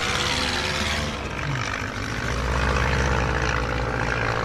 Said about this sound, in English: It just did a quick takeoff and land, because there was a bit of a crosswind